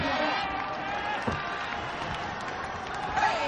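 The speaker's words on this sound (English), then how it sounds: "In the crowd, you can hear it, boss. There's a buzz in the Osaka Dome." A large indoor crowd at the Osaka Dome murmurs and cheers in a steady roar during an MMA event, with scattered shouts and a few sharp thuds rising from the din.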